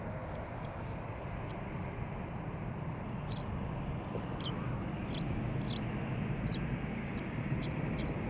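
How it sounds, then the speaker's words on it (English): Small birds chirp in brief, scattered calls outdoors at Amsterdam Schiphol Airport, faint and somewhat distant over a steady, loud rumble of aircraft engines. "It's almost spring-like with the birds chirping."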